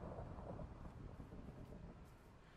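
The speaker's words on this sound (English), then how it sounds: "Oh, thunderstorm." A thunderstorm in Minecraft with the Lucky Block mod rolls as a faint, continuous low rumble that swells slightly and then eases, with no other sounds over it.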